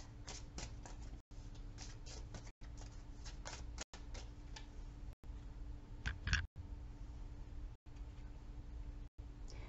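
A deck of moon oracle cards is shuffled close by in faint, repeated riffling bursts of soft papery clicks, broken by short regular gaps.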